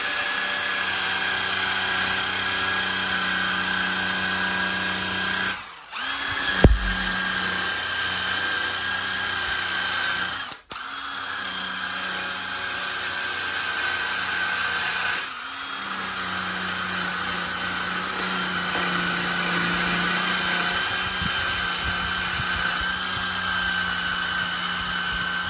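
A steady, loud power-drill whine while sanding live-edge wood runs throughout with a few brief dips where the motor cuts out and restarts as the drill dies, close to the microphone, no voices.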